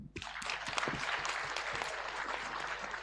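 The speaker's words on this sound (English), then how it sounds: "Let's give a great round of applause." A conference audience at the Berger Rise Above All 2023 event applauds the panelists, breaking into a sudden, full round of dense clapping that stays steady and even to the end.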